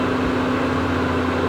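A Xiaomi Mi air purifier's fan runs steadily nearby, a constant smooth whir with an even low hum and airy hiss, unchanging throughout and without voices.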